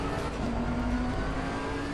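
A race car in the Assetto Corsa Competizione racing game, at the Misano circuit, drones steadily at high engine revs, loud and continuous as another car runs alongside.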